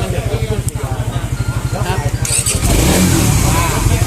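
An engine idles with a rapid, even putter, then revs up into a louder, sustained roar near the end, while someone talks over it.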